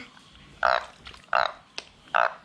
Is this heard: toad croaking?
yes